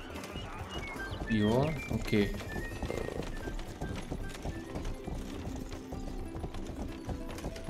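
Horse hooves clip-clopping in the video game Rustler, a brief rhythmic trot with a neigh-like cry amid game music, while someone speaks briefly over it.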